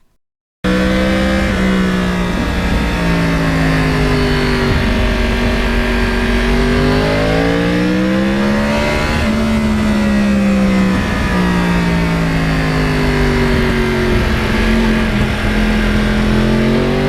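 A 2009 Yamaha R1 crossplane motorcycle engine while riding, a loud, continuous growl that rises and falls as the throttle opens and eases, heard close with steady wind and road noise.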